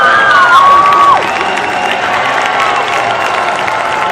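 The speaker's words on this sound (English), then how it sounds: "the Boston Latin crowd giving it to Ben as he comes off the ice" A high school hockey crowd from Boston Latin loudly cheers and jeers at the goalie as he comes off the ice, a dense roar of voices and clapping with a sharp whistle at the start, then a steadier din.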